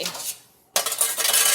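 A chicken pan is pulled out in a kitchen with sizzling cooking going on, a sharp metallic clatter of pan and utensils breaking in after a brief lull, then continued rattling and scraping.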